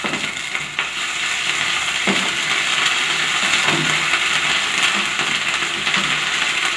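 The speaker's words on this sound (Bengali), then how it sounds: "আদা রসুন বাটাটা দেওয়ার পরে নাড়বো যাতে আদা রসুনের গন্ধটা না থেকে যায়।" Ginger-garlic paste is stirred into browned onions frying in a pan for a Bengali mustard fish dish. A loud, continuous sizzle runs throughout, broken by a few scraping stirs.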